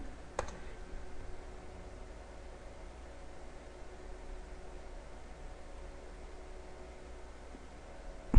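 Computer keyboard keys pressed for a Ctrl+Shift+Enter shortcut in Excel. A faint, sharp click comes near the start and another at the very end, with near-silent room hiss between.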